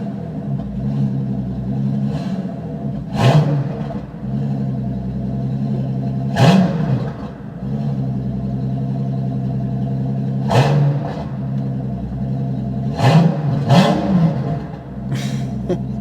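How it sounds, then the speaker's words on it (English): Up close, the V12 bi-turbo engine of a Maybach Exelero idles with a steady rumble, broken by about five quick throttle blips that flare loudly and fall back, spaced a few seconds apart. "Let's rev it just a bit."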